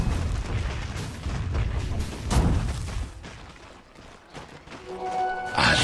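During a Dota 2 match, the top tower comes under attack amid a string of booming impacts and explosive bursts, with a sharp, bright hit near the end.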